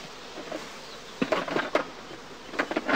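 Honeybees being knocked out of a straw skep, a dense buzzing swarm with several sharp bursts of louder humming and knocks, close and busy.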